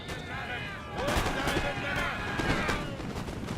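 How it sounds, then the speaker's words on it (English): Musket volleys in a Napoleon Total War land battle, a continuous crackle of distant gunfire with louder rolling bursts, heard without talk over it. "another set of musketeers unable to fire and get a few more shots just popped off of him"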